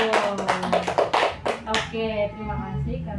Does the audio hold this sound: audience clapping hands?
yes